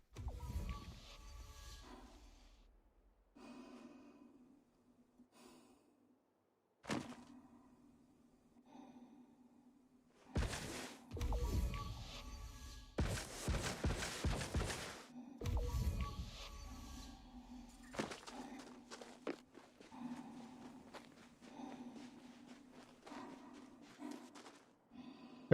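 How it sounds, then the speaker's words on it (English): Heavy, labored breathing from a character in Elite Dangerous, a space flight game, a steady rhythm of loud in-and-out breaths repeating under a low engine hum, with bursts of louder noise midway and no talk. "Can you hear that? The heavy breathing."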